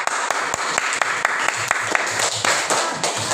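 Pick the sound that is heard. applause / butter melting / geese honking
applause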